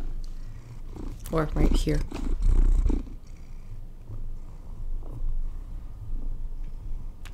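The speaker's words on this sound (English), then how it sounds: "If you hear purring, kitty, right there." A house cat purrs close by in a soft, continuous low rumble, while a person talks over it at times.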